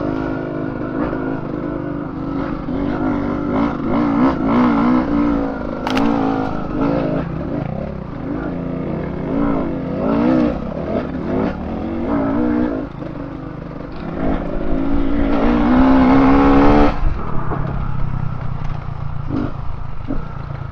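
A dirt bike motorcycle rides over country trails, its engine revving up and down in fluctuating bursts with clattering and scraping, building to a louder acceleration near the end.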